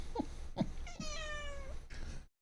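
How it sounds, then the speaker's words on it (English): A cat meows close by: a couple of short chirpy mews, then one long, drawn-out meow, with a quieter call at the end and no voices. "Listen to the cat."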